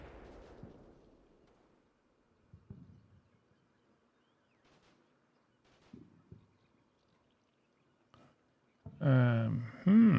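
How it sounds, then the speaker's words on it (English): Distant artillery fire in the Combat Mission video game, a few low thuds scattered across near-silence before a louder rumble near the end. "I saw some artillery shots going over there"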